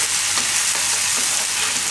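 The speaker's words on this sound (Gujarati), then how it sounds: "થોડીક વાર આ રીતે ફેરવી લેવાનું તેલમાં," Paneer bhaaji ingredients stirred in hot oil in a pan, giving a steady bright sizzle with soft scraping strokes of the spoon throughout, close and continuous with no talking.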